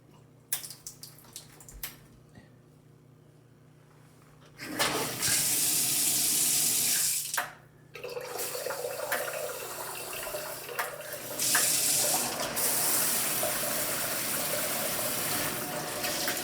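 ELLO & ALLO shower module with a multi-spray head and tub filler running water, quiet at first, then a loud steady hiss that stops briefly and resumes at full flow.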